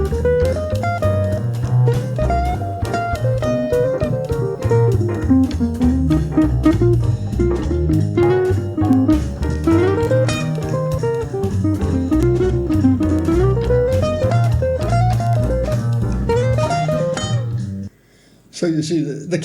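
A jazz guitar solo built on the major pentatonic scale weaves a flowing single-note melody over a full backing accompaniment, loud and continuous, ending abruptly with a short pause.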